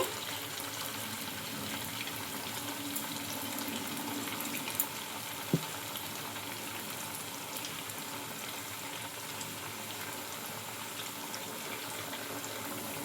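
Pieces frying in hot oil in a kadai, a continuous soft bubbling sizzle with a couple of faint knocks as they go in, heard close with no talking.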